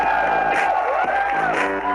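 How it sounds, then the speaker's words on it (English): A large audience at a smartphone launch event cheers, whoops and claps continuously, a dense, loud crowd roar filling the whole moment. "please join me to welcome our CEO on stage with a huge round of applause, Mr. Madhav."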